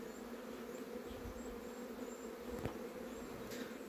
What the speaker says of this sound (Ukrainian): Бджолки у нас тут.